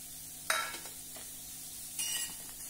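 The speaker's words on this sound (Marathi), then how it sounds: "त्यासाठी 2 मध्यम आकाराचे कांदे आपल्याला या प्रकारे लोखंडाच्या तव्यावर भाजायचे आहे" Onions dry-roasting without oil on an iron griddle, with two sharp scraping stirs against the metal over a faint, quiet sizzle.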